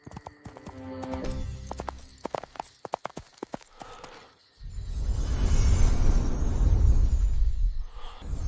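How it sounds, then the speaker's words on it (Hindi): Hooves of a winged horse in an animated fairy tale clip-clop in a quick, close run of sharp beats, then give way to a loud, rushing whoosh that swells and holds to the end. "साइफ को परों वाला घोड़ा मिला।"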